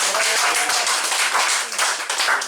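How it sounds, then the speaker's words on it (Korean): Audience clapping at the start of a rainy-day Korean public lecture on the US-Korea-Japan military alliance, a dense, steady burst of many hands filling the room at close range with no voices over it. "큰 박수로 한번 시작해볼까요?"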